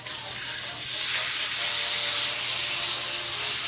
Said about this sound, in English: You can press it down if you want to sear nice and good on it